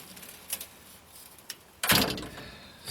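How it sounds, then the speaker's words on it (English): A newly fitted porch door on an off-grid tiny house rattles with a couple of light knocks, then shuts with a loud, close thud and a brief rattle. "with a working door"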